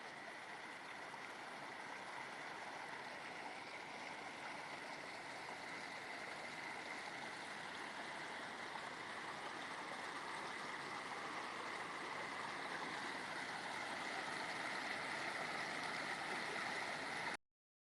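Water pours steadily over a canal lock overflow between double locks after heavy rain, a constant near rushing roar with no break and no voices.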